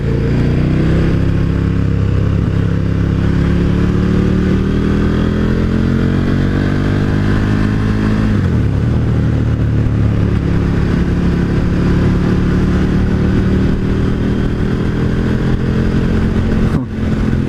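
A 2018 KTM 1290 Super Duke motorcycle rolls on in second gear, its loud engine drone rising steadily in pitch, dipping briefly midway as it shifts or eases off, then climbing again, close and continuous throughout.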